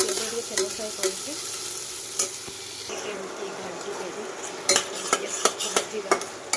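Onions frying in oil in a home kitchen pan, a steady sizzle with repeated sharp clinks and scrapes of a spoon stirring against the metal, louder taps clustering toward the end.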